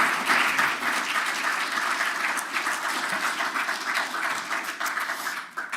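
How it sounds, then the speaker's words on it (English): Conference audience applauding a speaker, a dense, steady burst of many hands clapping for several seconds before tapering off at the end. "Let's give a warm round of applause for"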